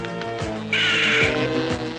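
A cartoon bird caws in a French animated series, a harsh raspy call rising over a background of music and other cartoon sounds.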